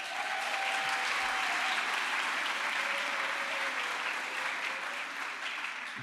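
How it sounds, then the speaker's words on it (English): An audience at a college address gives itself a round of applause, even and continuous clapping heard from a distance at modest loudness, with no talk over it. "Give yourselves a round of applause."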